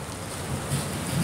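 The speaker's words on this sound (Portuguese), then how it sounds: "Forte chuva e tempestade caindo sobre os céus de Ipatinga." Heavy rain pours during a nighttime storm with strong wind over Ipatinga, a steady broadband roar with wind buffeting and no breaks.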